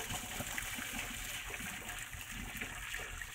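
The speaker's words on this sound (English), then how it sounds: "I'm going to drain off the rest of the water here." Hot water pouring out of a pot of boiled eggs into a sink, a steady broadband rush and trickle at moderate level running without pause, with no talking.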